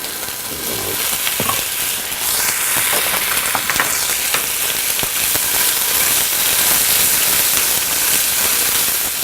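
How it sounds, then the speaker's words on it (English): Tofu and onion stir-fry in a pan, a loud, dense sizzle with crackling bursts and scraping strokes as they are tossed, alone without speech. "we're just going to add the tofu to the onion and stir fry that for about 2 to 3 minutes or until the tofu starts to brown"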